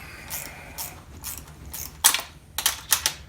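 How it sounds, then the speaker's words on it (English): A pinch bolt on the triple clamp of a 2021 Husqvarna TE 300i being tightened, heard close as a series of irregular ratcheting clicks and metallic ticks that grow sharper toward the end. "now I'm going to tighten up this center pinch bolt"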